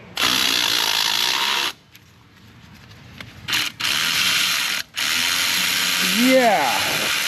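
A ratchet works a lubricated bolt on a Chevrolet in bursts of loud, close mechanical whirring and clicking, broken by short pauses and a brief squeal.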